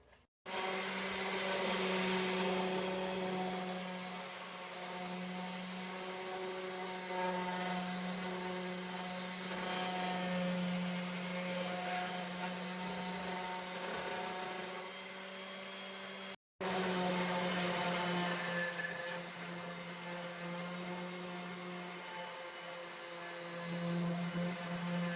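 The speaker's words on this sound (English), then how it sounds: "I'm going to take my sander, and I'm just going to go around the edges like this" Power sander rounding the edges of a wooden snowman Christmas decoration, a steady loud whining hum with harmonic drone that runs continuously, cutting out briefly once before resuming.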